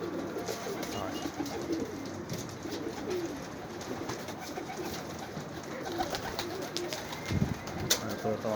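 Old Tar Ras pigeons cooing in a loft, soft continuous cooing from several birds with fluttering and background noise, close by.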